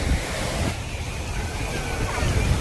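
Arabian Sea surf breaking on the Mumbai shore, a continuous close wash of water churned with heavy wind buffeting the microphone, with no clear voices.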